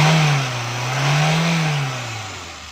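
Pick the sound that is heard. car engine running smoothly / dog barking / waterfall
car engine running smoothly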